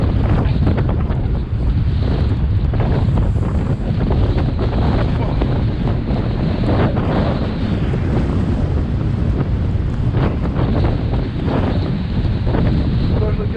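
Blizzard wind roars across a lake beach at a campground, buffeting the microphone in a loud, unbroken rush, with crashing waves churning underneath throughout.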